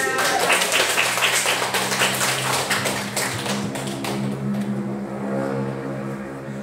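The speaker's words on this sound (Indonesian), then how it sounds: "beri aplaus dulu kepada" An audience at a moderated presentation session claps in a dense burst that thins out after about three seconds, leaving a low tonal hum beneath.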